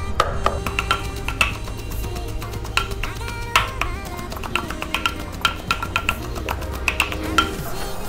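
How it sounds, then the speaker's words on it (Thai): Roasted chilies, garlic and shallots being pounded in a mortar with a pestle, a steady run of sharp knocking thuds at an irregular rhythm, close up and fairly loud, with no voices over it. "ลงพริกที่เราคั่วไว้นะครับพริกกระเทียมหอมแดงนะครับผมทีนี้ก็ทำการโขลกเลยครับ"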